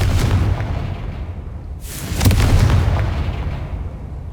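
Confringo fire spell exploding in the video game Hogwarts Legacy, a sharp blast cracking over a steady low rumble and followed by a booming tail.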